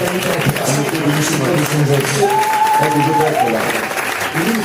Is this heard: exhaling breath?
no